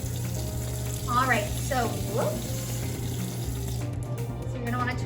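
A kitchen tap runs steadily while soap is rinsed off hands, a constant close water hiss with a low hum underneath and a person talking briefly over it.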